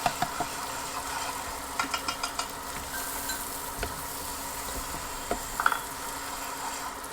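Vidalia onions sautéing on a Hestan Cue pan: a steady soft sizzle with scattered light clicks and taps of stirring, close and fairly quiet, with no talk.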